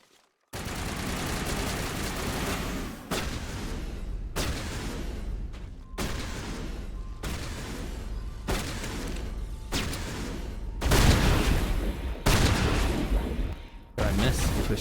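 Loud shotgun blasts and other gunfire in the video game Mass Effect, a dense stream of shots broken by short gaps, with heavier booming bursts toward the end, close and continuous.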